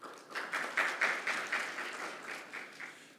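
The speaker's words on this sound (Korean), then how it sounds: "역시 박수로 환영해 주시기 바랍니다" Audience applause welcomes a panelist at a Korean legal forum on copyright, a soft, moderately distant patter of clapping with gently pulsing swells that tapers slightly toward the end.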